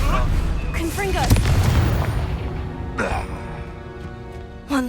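A Confringo blasting curse explodes in Hogwarts Legacy, a sharp booming burst followed by crackling debris amid game music and shouting voices, with a second smaller blast near the end.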